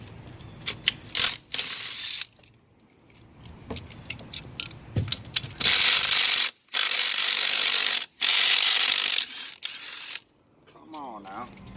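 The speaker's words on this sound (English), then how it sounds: "Getting the lug nuts off the wheels." A ratchet clicks in quick bursts while loosening lug nuts on the wheel of a bagged Ford Ranger, close and loud, with metallic jangles and clinks between the pauses.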